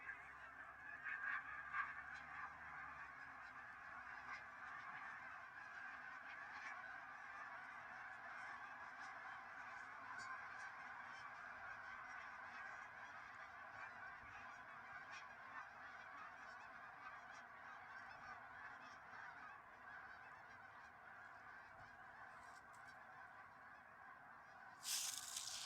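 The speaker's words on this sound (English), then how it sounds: "That is a lot of geese." Geese honk in a mass migration over a lakeside park disc golf course in Lafayette, Colorado: a continuous, faint, distant chorus of many overlapping calls with no speech.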